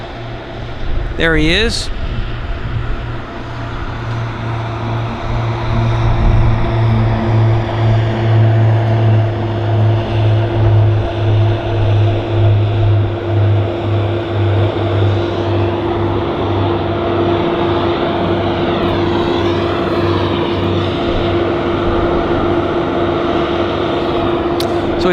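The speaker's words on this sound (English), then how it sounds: "This Beach 1900 is on the roll." A Beech 1900D propeller airliner of Pacific Coastal rolls for takeoff at Vancouver Airport, its engines droning loud and steady with a sustained propeller hum, as someone speaks briefly early on.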